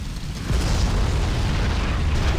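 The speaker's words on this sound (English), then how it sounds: "Beautiful explosion effects." A video game explosion erupts as a deep rumbling boom, sustained and loud with a low roar after a sudden onset, standing alone without talk.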